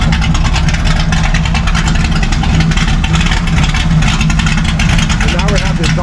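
A loud, rumbling gasser car engine revs lightly with exhaust cutouts open, running continuously up close, a heavy steady drone with a rough, throaty texture.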